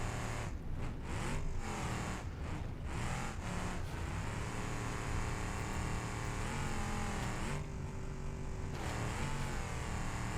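Trophy truck engine in BeamNG.drive, droning loud and steady with rising revs and gear-shift dips, a continuous racing roar with no talk.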